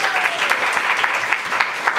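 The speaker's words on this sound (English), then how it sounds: "everyone give her a great big round of applause" A workshop audience claps together in sustained, even applause that carries from start to finish at moderate volume, with no speech.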